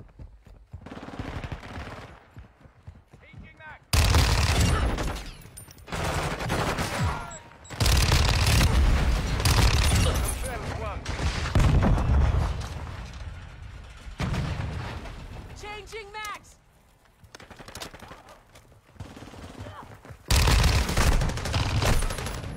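Loud bursts of video game gunfire come in long stretches of rapid rattling shots and booms, separated by brief quieter gaps, with a voice talking faintly in the background.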